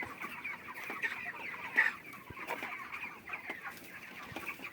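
Broiler chickens on a two-storey poultry farm in winter cluck and murmur as a steady, dense flock chatter, with one brief louder call standing out near the middle and no talking.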